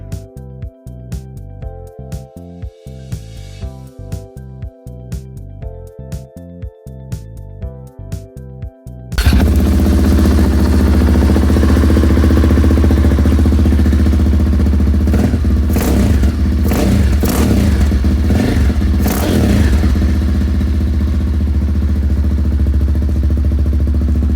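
A Husqvarna 701 supermoto with a Rottweiler intake and power commander fires up after a stretch of music, then idles loudly and steadily with a deep, throbbing single-cylinder rumble and a few brief revs close by.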